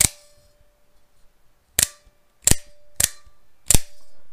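Five sharp metallic snaps at uneven intervals from an OTF knife, close up, with a faint steady ringing tone of blade and spring twang hanging between them.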